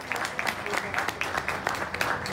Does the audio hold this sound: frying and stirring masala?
no